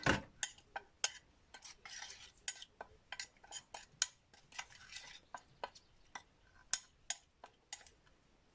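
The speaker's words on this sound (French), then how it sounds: "On va mélanger bien les ingrédients." A spoon stirs spices and ingredients together for a vegetable marinade, each scrape and clink against the bowl coming close and crisp at a steady, uneven rhythm with no talking.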